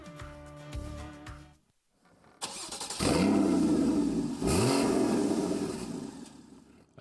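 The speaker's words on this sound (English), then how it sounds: "Among the standard features is the sports exhaust." A Porsche Cayman GTS with a sports exhaust fires up and revs hard twice, each loud blip rising and falling, after a short stretch of music and a pause.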